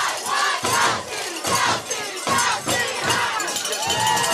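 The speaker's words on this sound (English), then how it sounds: "Wow, what a crowd today, John." A large crowd cheers and roars loudly and continuously in the full stands at a high school football game, the SSFHS vs El Camino Bell Game, with surging waves of shouting.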